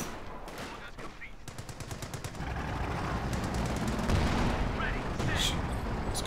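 Machine gun fire and explosions from a Company of Heroes 2 match between an M10 tank destroyer with a .50 cal upgrade and opposing forces, with rapid bursts and heavy booms over a continuous battle rumble.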